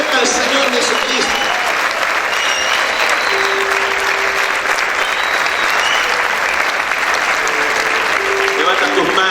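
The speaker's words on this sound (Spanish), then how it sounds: "aplaude fuerte al Señor Jesucristo." Loud, sustained applause from a large congregation at a church service fills the space, steady throughout with no letup.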